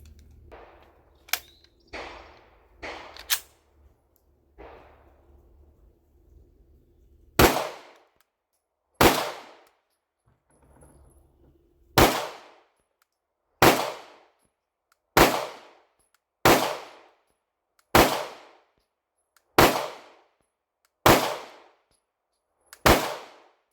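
A Canik Mete pistol fires at a shooting range: after some quiet handling noises, about a dozen sharp, loud single shots ring out at a steady, unhurried pace, each with a short decaying tail.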